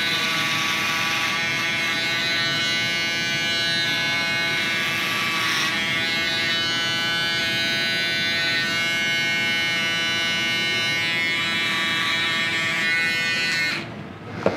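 A Babyliss electric shaver buzzes steadily and loudly for about fourteen seconds while cutting hair during a skin fade in a barbershop, then cuts off briefly at the end.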